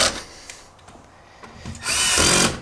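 Power driver whirring in short bursts to drive screws into the plastic air filter cover of a Peugeot, Citroen or Fiat 2.0 HDi van, with a quiet pause before a longer, louder run.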